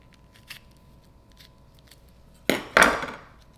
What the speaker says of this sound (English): this is just a snap pea. Just cut the pea